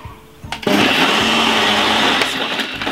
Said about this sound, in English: let's cover my blender and blend this roughly about 3 to 4 seconds